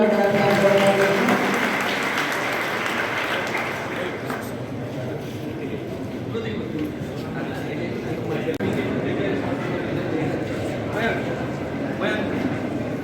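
Applause at a tribal day community gathering in a village, a broad sustained patter of many hands clapping that builds and carries on over several seconds, with voices and crowd murmur mixed in.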